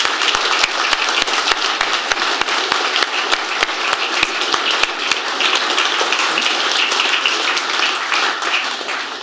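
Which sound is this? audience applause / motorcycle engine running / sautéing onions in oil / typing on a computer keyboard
audience applause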